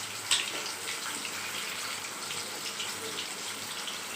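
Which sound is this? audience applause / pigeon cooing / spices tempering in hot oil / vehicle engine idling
spices tempering in hot oil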